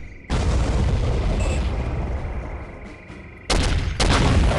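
A grenade-like explosive detonates loudly in the game Soldier of Fortune, a sudden heavy blast with a long decaying rumble, followed moments later by a second sharp burst.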